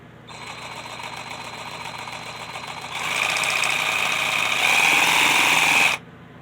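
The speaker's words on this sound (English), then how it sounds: "I got a kit which allows you to attach files and rasps to the reciprocating saw." A reciprocating saw fitted with a rasp attachment works a guitar neck as a power rasp, buzzing and rattling steadily up close, growing louder and harsher in two stages before cutting off abruptly, with no voices.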